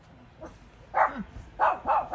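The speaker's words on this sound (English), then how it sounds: "What are you barking at?" A nearby dog barks four times in uneven bursts, the last three closer together, with a faint whimper between.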